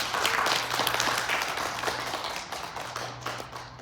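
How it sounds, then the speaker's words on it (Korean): Audience applause at a leadership conference in Korea, a full burst of clapping from a crowd that starts strong and gradually thins out over a few seconds. "박수 한번 줘봐요."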